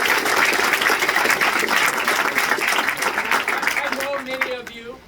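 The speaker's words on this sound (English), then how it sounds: "So give yourselves a round of applause." A campaign event crowd in Northern Virginia's 11th District gives loud, dense applause that fills the room for several seconds, then fades as a voice begins speaking near the end.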